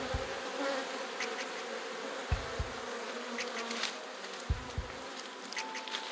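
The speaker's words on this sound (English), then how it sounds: "I love the beautiful sound of bees." Bees buzz at a new beehive box, a dense continuous hum close by with occasional individual bees passing louder near the listener.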